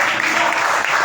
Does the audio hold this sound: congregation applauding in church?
yes